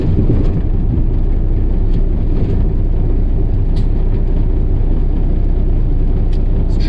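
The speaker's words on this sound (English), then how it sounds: "truck is a little bit noisy on the highway." Steady, loud low rumble of a semi truck rolling along a highway at speed, constant road noise with a deep engine drone throughout.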